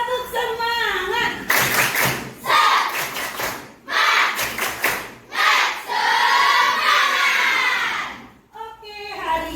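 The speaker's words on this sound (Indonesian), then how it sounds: "bisa tepuk semangat, keluarkan semua energi positif kalian" Schoolchildren in a makeshift classroom at an evacuation site perform the tepuk semangat clapping chant, with bursts of rhythmic group clapping and chanting voices, loud and close, separated by brief pauses and a teacher's voice at the start.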